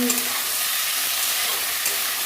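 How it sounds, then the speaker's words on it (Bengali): Paneer cubes fry in a hot pan, giving a steady, close, broadband sizzle and crackle with faint stirring, and no voices. "এই পনির ভাজাটার মধ্যে লবণ দেওয়া হচ্ছে"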